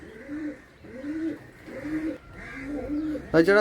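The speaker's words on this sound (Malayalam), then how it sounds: "ഇത് പത്ത് വയസ്സായ പ്രാവാണ്" A ten-year-old racing pigeon coos close by in a repeated rhythmic series of soft throaty calls, about four phrases in a row, ending with a brighter burst of sound.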